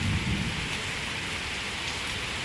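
Heavy rain pours down at dawn in a dense, even roar of drops on surfaces, loud and unbroken throughout, with no voices.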